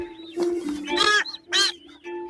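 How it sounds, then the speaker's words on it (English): Vampire finches give short, harsh, nasal calls, several rough squawks in quick succession at close range with quiet gaps between them. "They are vampire finches."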